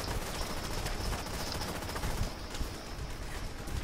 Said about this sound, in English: Don't stop firing the Bullet Kings